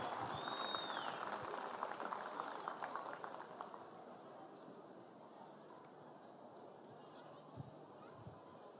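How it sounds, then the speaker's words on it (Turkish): An outdoor festival crowd at an opening ceremony in Tarsus claps, loud dense applause that gradually thins and fades to scattered claps. "Alkışlarınızı durdurmuyoruz."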